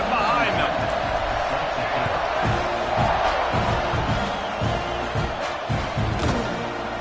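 Loud football stadium crowd roaring and cheering steadily before kickoff in a tied fourth quarter, with scattered thumps and shouts rising over the broad, continuous din.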